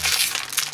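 Crinkling and rustling of a frozen pasta package's plastic wrap being handled and opened, a close, continuous crackle with a few louder crinkles, no talking.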